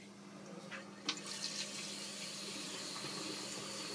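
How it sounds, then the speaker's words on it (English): Cold water runs steadily from a sink faucet, a continuous hissing flow with a few small clunks near the start. "first I'm going to start by turning the cold water back on."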